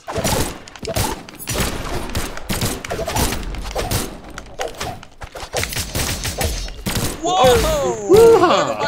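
Guns firing in the video game Brawlhalla make rapid bursts of clattering shots and thumps, dense and loud, mixed with excited players talking and shouting over the action.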